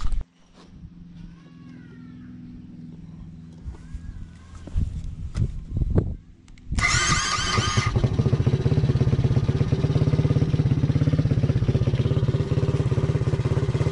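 A cheap second-hand quad bike engine catches after a few short cranks and settles into a loud, steady running drone that fills the rest of the clip, with a few faint voices and clatter before it starts.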